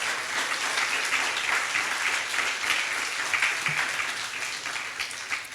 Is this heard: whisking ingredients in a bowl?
no